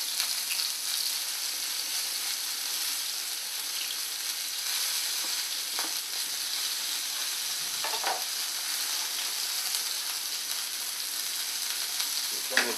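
Beef fillet sizzles steadily in a hot pan in a restaurant kitchen, a constant hiss with a few faint clicks and taps; no talk.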